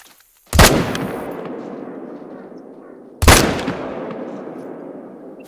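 Two hunting rifle shots in theHunter: Call of the Wild, each a sharp loud crack followed by a long rolling echo that fades slowly, spaced about three seconds apart with no talk.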